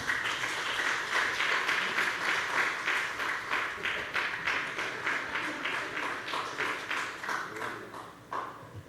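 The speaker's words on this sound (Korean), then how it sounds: "우리 박수 한번 합시다" A church congregation claps together in a steady, rhythmic burst that runs several seconds before thinning out near the end, heard from within the room.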